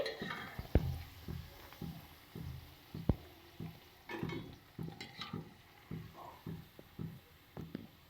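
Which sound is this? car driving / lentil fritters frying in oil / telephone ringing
lentil fritters frying in oil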